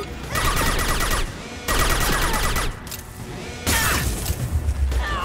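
A new weapon fires in the video game Mass Effect 2, producing dense bursts of rapid gunfire and crackling impacts in three loud stretches separated by brief lulls.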